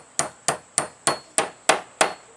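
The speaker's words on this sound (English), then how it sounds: "When you hit bottom, you'll know. The sound of the tapping changes" Seven sharp hammer taps on a Glock channel liner land at an even, steady pace, each a crisp close strike with a short ringing decay.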